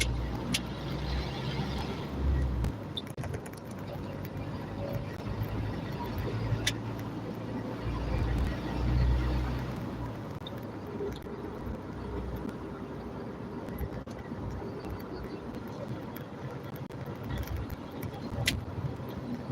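Car driving along a road at night, a steady low engine and road rumble heard from inside the vehicle with faint rattles and clicks, no talk.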